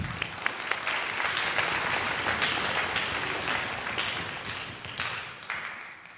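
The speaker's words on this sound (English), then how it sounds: "let's give him a big round of applause" An audience at a high school spring concert breaks into dense, sustained applause during an award presentation. The clapping holds steady and fairly loud for the full six seconds before thinning slightly at the end.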